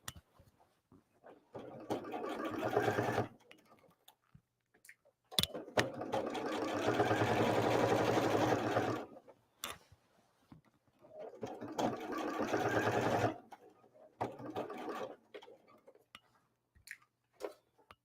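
A sewing machine runs a base stitch in three sustained bursts of steady mechanical whirring, separated by pauses filled with light clicks and handling noises.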